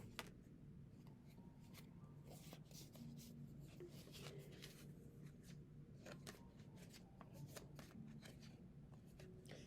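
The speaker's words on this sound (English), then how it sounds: "I'm shuffling cards" Tarot cards shuffle by hand in a quiet room, a faint, steady papery riffling and rubbing with scattered soft flicks and snaps throughout, close but low in level, with no talking.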